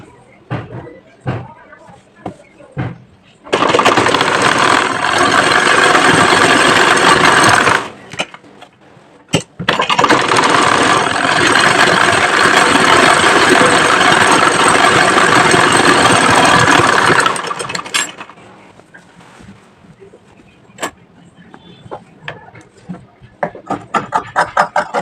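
A sewing machine stitches round and round the sleeves of a kameez, joining them to the body, running in two long continuous motor bursts separated by a short pause, with quieter handling noises before and after.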